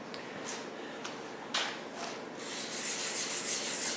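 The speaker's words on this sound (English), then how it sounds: "we've done some sanding on that wing repair" Filler on a wing repair is sanded by hand, a faint rasp in separate short strokes at first, then a quicker continuous scrubbing that gets louder toward the end.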